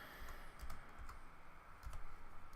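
Quiet, close typing on a computer keyboard, bursts of rapid key clicks while entering an IP address, with no talking.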